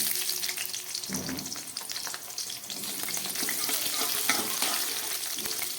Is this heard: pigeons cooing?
no